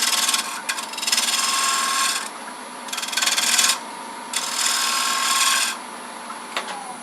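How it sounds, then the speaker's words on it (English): A bowl gouge cuts the sharp edge of a wooden paten turning on a lathe. It makes loud, close scraping bursts of about a second each, separated by short pauses, with no talk. "So let me just take a bowl gouge, come up on the edge a little bit"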